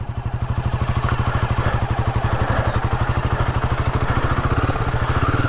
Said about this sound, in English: This bike, within the rev ranges of 2000 to 3000 rpm, tends to have a little lag.